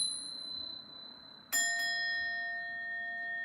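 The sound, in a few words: bell being rung to clear energy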